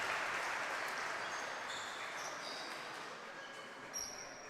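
Crowd in a women's basketball arena applauding an injured player leaving the court, a sustained wash of clapping that slowly fades, with a few squeaks.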